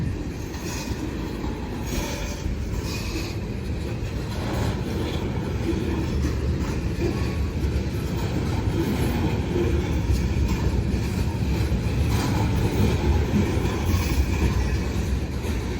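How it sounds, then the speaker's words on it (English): A CSX freight train of tank cars with a single hopper rolls past near Greenville, North Carolina, a steady close rumble of wheels with faint clicking rail joints and occasional squeals, no talking. "this train has one hopper on it. Nothing else, just tankers"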